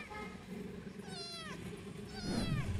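A small white kitten, abandoned outdoors, gives two or three thin, rising-and-falling meows close by, over faint background hum.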